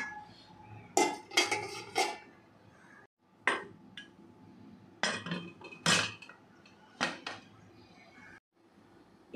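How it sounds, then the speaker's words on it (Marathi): Metal pots are set into a pressure cooker alongside a pot of rice, making loud clanks and clatters in short bursts separated by quiet pauses. "आणि हे मी कुकरला आता लावून घेते।"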